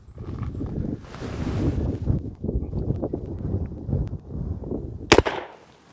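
An airsoft single action revolver fires a single sharp shot at a playing card outdoors, heard near the end after a stretch of gusty wind noise buffeting the microphone.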